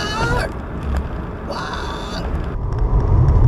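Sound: Florida scrub jay call

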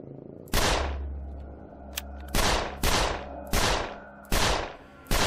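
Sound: gunfire from a gun in a video game (13 Days in Hell)

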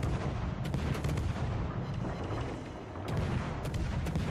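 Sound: naval artillery fire in the video game World of Warships

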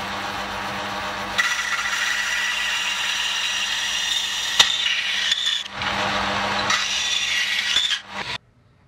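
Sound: bandsaw cutting aluminum bar stock

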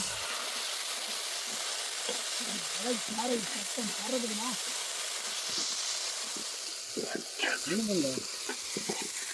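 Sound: herb leaves frying in hot oil

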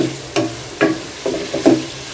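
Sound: onion frying in a pan with bay leaves

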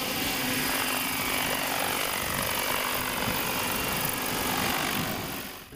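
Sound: agricultural spraying drone engine roar

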